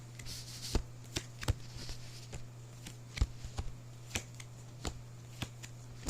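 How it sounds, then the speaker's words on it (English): Tarot cards pulled from a deck at the start of a reading: a series of crisp, separate card snaps and flicks at uneven intervals, close and fairly quiet, over a steady low hum, with no talking. "So let's get this started by pulling these cards out."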